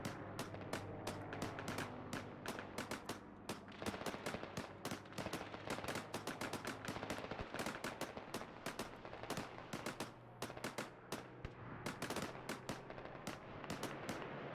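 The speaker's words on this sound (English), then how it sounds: "I'm gonna be trying to engage targets with guns on those areas." Rapid, sustained gunfire from guns engaging targets in the Arma 3 video game: dense streams of quick, sharp reports continuing nearly throughout at a steady, fairly quiet level, with no talk.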